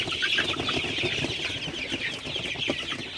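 Sonali super hybrid chickens cluck softly in a shed at night, a continuous quiet chorus of overlapping clucks and chirps with no talking.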